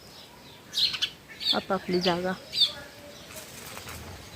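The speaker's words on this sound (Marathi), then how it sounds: "संध्याकाळ झाली, चिमणा आले, चिमणी आल्या, मस्त जागा शोधू राहिले" Sparrows settling in to roost at dusk, with a few quick bursts of wing flapping and high chirps near the middle, while someone speaks over the rustling activity.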